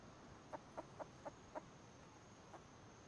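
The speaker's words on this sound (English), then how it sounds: "Chickens and everything all over the place." Chickens in a video game cluck in a short run of five quick, faint calls, then one more after a pause, over a low steady hum.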